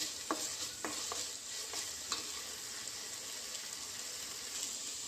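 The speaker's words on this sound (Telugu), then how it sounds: "ఇది ఉల్లిగడ్డల్లో అంతా మిక్స్ చేసే వరకు బాగా వేయించుకోవాలి" Okra and onions fry in a pan for a tomato okra curry, giving a soft, steady sizzle. A spatula lightly clicks and scrapes a few times early on as the pieces are stirred, then the sizzle carries on alone.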